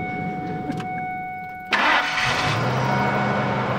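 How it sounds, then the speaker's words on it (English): A truck's V10 engine cranks and fires after a steady tone, then settles into a smooth, quiet idle that continues to the end. "just notice how nice and quiet this V10 purrs"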